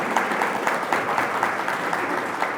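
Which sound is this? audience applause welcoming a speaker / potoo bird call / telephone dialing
audience applause welcoming a speaker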